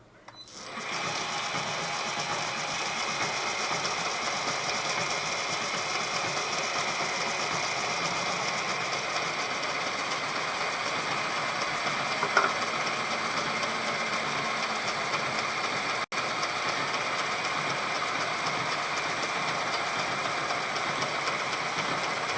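A tough crankshaft from a Westwood lawn mower turns on a metal lathe as a cutting tool peels stringy chips. The machine drones steadily and loudly from start to finish, with a brief tap near the middle and no speech.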